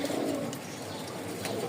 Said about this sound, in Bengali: দেখেন নরের ডাকটা দেখেন